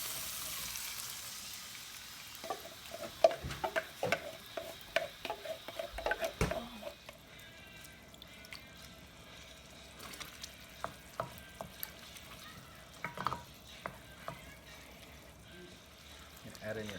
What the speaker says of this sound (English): you're going to just fry up the garlic a little bit. Quick little stir, get some heat on it